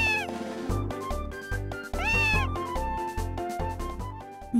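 Cats meowing at the cat festival in Harvest Moon: Grand Bazaar, several drawn-out meows rising and falling over a bouncy game music track with a steady beat.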